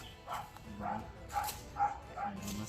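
A dog barks repeatedly in short, irregular bursts, fairly close, with some whiny yips mixed in.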